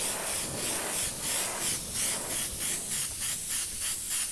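A paint airbrush hisses steadily and close, its spray pulsing in short rhythmic bursts as paint is streaked on in vertical strokes, with no voices over it.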